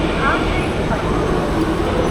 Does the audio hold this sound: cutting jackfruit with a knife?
no